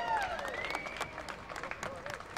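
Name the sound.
applause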